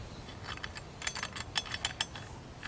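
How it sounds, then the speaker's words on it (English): A metal clamp on a closed-loop extractor tank is ratcheted down over the gasketed lid, giving a series of sharp mechanical clicks and ratchet-pawl snaps close up, irregular and quick, in a quiet room with no speech. "You take this and you clamp it down."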